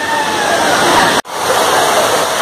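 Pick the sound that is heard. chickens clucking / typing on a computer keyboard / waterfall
waterfall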